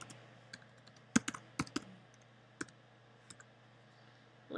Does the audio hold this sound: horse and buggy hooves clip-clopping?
no